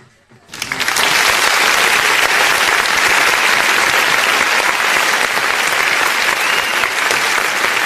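Spectators at a live kabaddi cup match break into loud, sustained applause after a quiet moment, dense clapping that holds steady to the end with faint voices underneath.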